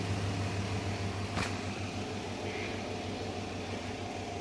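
Washing machine dryer cycle running indoors, a steady low mechanical hum with a constant drone, water draining through an outlet pipe, one brief click midway, no talking.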